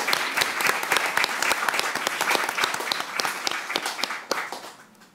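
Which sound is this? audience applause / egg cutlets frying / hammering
audience applause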